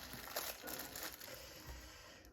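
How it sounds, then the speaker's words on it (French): Packaging for a Casio G-Shock GM-S2100 watch crinkles and crunches as it is unboxed, with steady close-up rustling throughout and no talk. "Alors, je vais la déballer"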